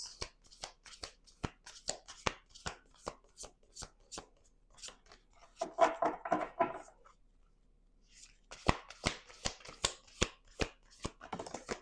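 Playing cards being shuffled up close: a run of sharp rhythmic taps, a short riffling burst, then another quick series of taps.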